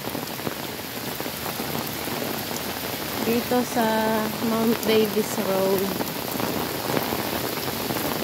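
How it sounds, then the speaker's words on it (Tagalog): Typhoon Signal 8 rain falling steadily on the surfaces of Mount Davis Road in Hong Kong, heard while walking; someone talks over the constant hiss partway through. "typhoon number 8, hindi pa siya gaano malakas yung ulan. At saka hangin."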